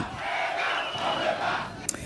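A crowd of demonstrators at a rally fills the air with a steady, dense roar of many voices shouting together, continuous and fairly close, with a brief sharper cry near the end.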